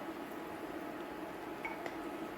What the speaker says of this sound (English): I am hearing the sizzle.